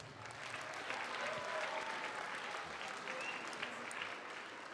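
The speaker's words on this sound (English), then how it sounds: "So let's give his office a big round of applause." Steady applause from an audience at an elementary school Chinese Lunar New Year celebration, filling the room evenly for the whole stretch with a little crowd murmur underneath.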